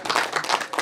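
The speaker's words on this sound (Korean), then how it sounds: "뜨거운 박수를 치주시기 바랍니다" An audience at a regional development policy forum breaks into a brief burst of hand clapping, close and dense, lasting under a second.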